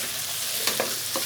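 Chicken korma with ginger-garlic paste being stirred in a degh-style pot, a steady frying hiss with a few brief scraping strokes of the spoon near the end.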